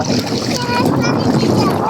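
Lake water at Tandah Lake near Abha and Khamis Mushait, Saudi Arabia, makes a steady, close wash and lapping, with wind buffeting the microphone and faint voices in the background.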